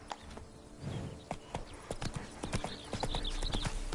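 Horse hooves clip-clopping at a walking pace in The Witcher 3: Wild Hunt – Blood and Wine, with steady, distinct hoof knocks close by over soft ambient game background.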